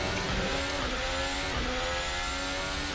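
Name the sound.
RSS Formula Hybrid 2020 downshifting, Assetto Corsa video game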